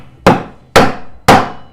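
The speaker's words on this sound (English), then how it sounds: "people probably cringing as I tap that in with a hammer, but whatever. It's just a bearing." Hammer tapping a bearing into a street bike rear wheel during a custom CBR 450 build, three sharp, loud, evenly spaced metallic strikes, each ringing out and decaying before the next.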